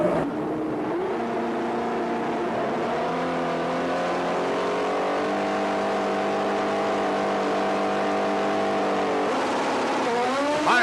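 Nostalgia drag race cars launch and tear down the strip with a loud, sustained engine roar that climbs steadily in pitch, heard close and without talk.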